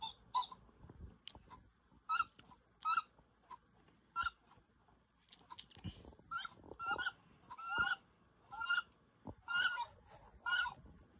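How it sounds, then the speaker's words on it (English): Wood duck call from a singing bird clock: repeated squealing, honking notes in a loose rhythm of about a dozen calls, clear and close, with no voices. "Number nine is the wood duck."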